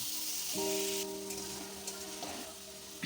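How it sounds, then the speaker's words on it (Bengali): Chopped banana flower frying in a little oil in a pan over a low gas flame, a soft, even sizzle running throughout with a faint steady hum underneath. "মোচাটাও ভালোভাবে ভেজে নেব। গ্যাসের ফ্লেমটা আমরা আস্তে দিয়ে ভাজবো"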